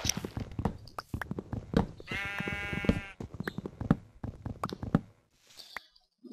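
A sheep in Minecraft gives a short harmonic bleat around the middle, amid a busy stream of clicky in-game sounds and footsteps.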